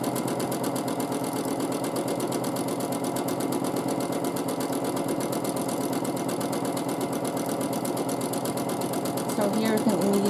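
A sewing machine does dense quilting with a steady rapid mechanical whir and stitching rattle that runs evenly and close throughout, ending with a brief clatter.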